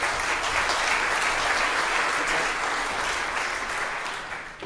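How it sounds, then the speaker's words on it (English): A room full of people applauds steadily at an innovation festival at the Ageas Bowl, Southampton, a dense wash of clapping that holds for a few seconds and then begins to fade. "Round of applause"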